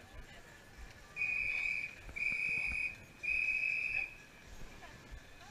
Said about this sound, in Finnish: Siinä kuultiin vihellykset, mitkä tarkoittaa kisan alkamaisilla.